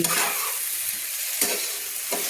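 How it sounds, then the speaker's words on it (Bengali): A spatula stirs spring onion stalks, potatoes, tomatoes and ground spices in a hot pan, with a continuous bright sizzle and a few scraping strokes, close and loud, with no talking. "এইভাবে একটা খুন্তি দিয়ে সুন্দর করে আমি কিন্তু যে আমি গুঁড়ো মশলাগুলো অ্যাড করে রেখেছিলাম সেগুলো কিন্তু সুন্দর করে নেড়ে নিচ্ছি।"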